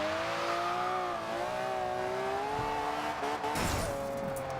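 A Stradale in Forza Horizon 2 tuned for a mile drag launches and accelerates, its engine note holding a steady high drone while climbing gradually, with a brief tire squeal and shift near the end.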